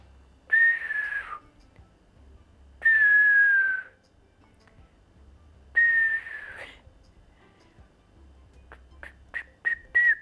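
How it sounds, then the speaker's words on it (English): A person whistles a clear, sustained note three times with pauses between, then ends with a quick series of short chirpy whistles. "Wow, I've never whistled so well."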